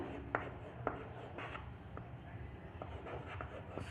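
Pen scratching on paper while a pie chart is drawn and labeled, faint soft strokes with a few sharper taps, quiet and close, with light speech in the background.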